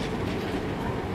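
A train runs into Bapatla railway station with a loud, continuous close rumble and rolling wheel clatter throughout, with no talking.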